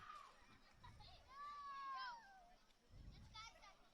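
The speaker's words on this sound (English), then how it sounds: "If you hear the voices in the background, we got some kids playing." Children's voices carry faintly from the distance as kids play near a high school varsity football field, with scattered shouts and calls under a soft outdoor hum.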